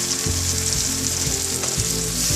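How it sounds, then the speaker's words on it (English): A cornstarch-thickened sauce for chilli gobhi, an Indo-Chinese cauliflower dish, bubbles and sizzles in a pan while being stirred, with a steady frying hiss and soft periodic scraping thuds. "Give it a stir"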